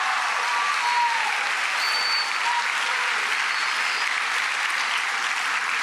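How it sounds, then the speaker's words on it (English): Sustained applause from an auditorium audience at an eighth grade promotion ceremony, a dense, even wash of clapping holding steady for several seconds with no speech. "give them a round of applause, the administrative team and your teachers"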